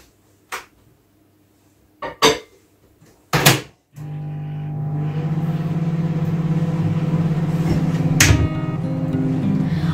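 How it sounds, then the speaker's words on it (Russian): Microwave oven running after a plate is set inside for reheating a vinaigrette salad component: a few clunks and clicks of the door and buttons, then a steady loud hum from about four seconds on, with a brief click near eight seconds. "А я пока работает микроволновка,"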